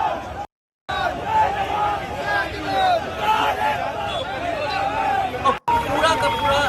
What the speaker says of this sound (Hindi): इतनी भीड़ है ये यहाँ।